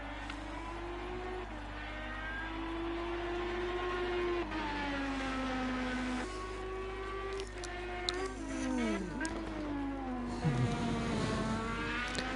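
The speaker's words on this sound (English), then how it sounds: "So here that Honda engine push hard, as hard as it can." A Honda IndyCar engine pushes hard on the Indianapolis road course, a continuous high whine rising and falling through gear changes, heard at a distance under a steady broadcast hum.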